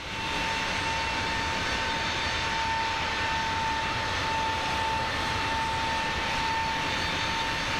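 An Airbus A321LR's jet engines roar steadily while climbing after takeoff in MSFS 2024, a loud, unbroken drone carrying a sustained whine, heard alone with no voices.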